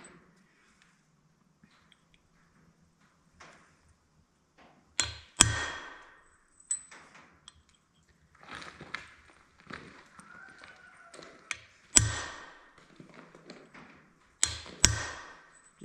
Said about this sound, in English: Just take a cold chisel, do a little tappy-tappy.